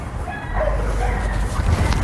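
An excitable dog that wants to play lets out yips and whimpering barks, fairly close and fairly loud, against a steady background of noise.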